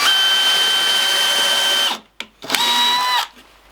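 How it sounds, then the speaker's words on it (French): A power drill bores through a piece of wood set on a support underneath, whining loudly at a steady pitch, then stopping, briefly restarting in short bursts, and running steadily once more before cutting off. "Pour limiter les éclats à la sortie de votre mèche lorsque vous venez percer une pièce de bois"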